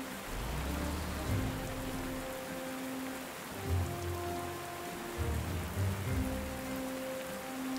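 Steady rain patters on surfaces in the strategy video game Panzer Corps 2, a dense continuous hiss over a low music bed.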